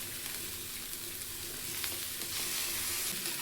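Greens and onions fry in a pan with a steady, dense sizzle that holds throughout and swells slightly louder toward the end, with no voices over it.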